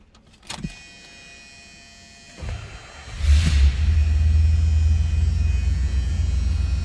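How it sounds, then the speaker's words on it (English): A 1977 Chrysler Cordoba coupe with a 400 V8 cranks briefly and settles into a steady, loud, close idle rumble that carries to the end, with no talk over it. "Again, that 400 V8 underneath the hood."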